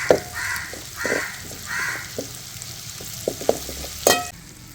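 Onions frying in oil in a pan give a soft, steady sizzle with intermittent louder crackles and stirring scrapes, fairly close and without talk.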